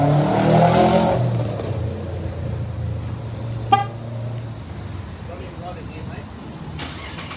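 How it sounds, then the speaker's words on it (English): A Holden Commodore VF SV6 sedan started by remote: a loud engine turnover settling into idle, with a sharp beep partway through and the engine humming steadily, while someone talks over it. "The car has remote starts"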